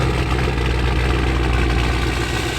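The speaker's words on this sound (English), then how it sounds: "Sounds like a perfect opportunity for not one, but two cold starts." A Cummins diesel with compound turbos in an old pickup truck rumbles through a cold start, holding a loud, close, steady low clatter and drone without pause.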